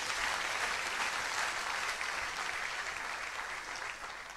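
A church congregation applauds steadily for several seconds, a soft, even wash of many hands clapping at moderate distance that fades slightly toward the end.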